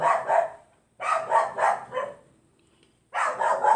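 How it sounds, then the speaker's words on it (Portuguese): A dog barks in quick, clustered bursts: three groups of several sharp barks separated by short pauses, close and clear with no talking. "O cachorro já acordou e já tá dando um showzinho dela particular"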